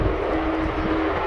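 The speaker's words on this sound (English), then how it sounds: "And here it goes, the incredible Lockheed U2S." A Lockheed U-2S jet takes off at an airshow, a loud, steady engine roar with no breaks over the whole short span, heard alone and unvoiced.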